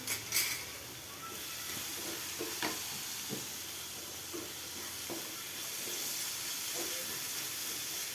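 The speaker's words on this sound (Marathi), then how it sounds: "हे चांगलं असं तेलामध्ये परतून घ्यायचं" Vegetables sautéing in hot oil in a home kitchen pan, with a steady broadband sizzle and hiss throughout, a few brief clinks and scrapes of stirring scattered across, no talk.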